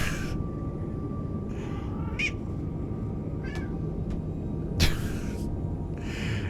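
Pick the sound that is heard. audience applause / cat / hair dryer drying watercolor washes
cat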